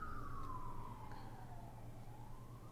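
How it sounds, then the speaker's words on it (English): A wailing emergency vehicle siren sweeps slowly downward and back up, steady and moderately faint in the background over a low rumbling hum, with no talking. "Excuse the sirens in the background."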